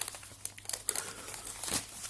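A typical polythene plastic bag around a boxed Leagoo M5 phone crinkles in short, close, irregular rustles and crackles, alone without talk.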